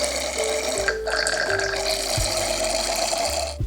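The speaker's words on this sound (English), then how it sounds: "It's actually a very heavy pour. I'm gonna pour some back." Hess Select wine pouring into a glass, a gurgling liquid stream with shifting pitch over a few seconds, close and fairly loud.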